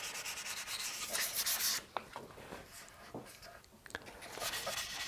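Sandpaper rubs across an oak tabletop being worked through the grits under an oil finish, making close, scratchy back-and-forth strokes with brief pauses and quieter passes.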